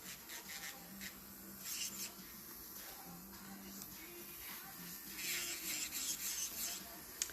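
Electric nail drill filing natural nails down to a diamond clear coat, a steady faint high buzzing grind with rubbing texture, growing a little rougher toward the end.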